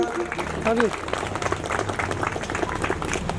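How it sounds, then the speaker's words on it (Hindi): A gathering at an overnight Hindu devotional jagran in Rawalwas Khurd claps during an honoring ceremony, with scattered hand claps running throughout and voices speaking loudly over them. "तालियां बजाओ जोरदार।"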